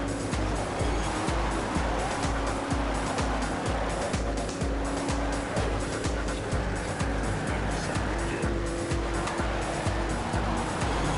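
Race car in the video game TrackMania Turbo, a loud continuous engine drone with rapid rhythmic ticking pulses and hissy broadband texture, steady throughout with no talking.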